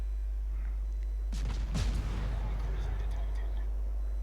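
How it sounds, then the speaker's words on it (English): Guns on Bogatyr warships fire in a naval battle video game, giving a dull, rumbling burst of blasts near the middle over a steady low background hum. "you've got 2 Bogatyrs firing at you like that"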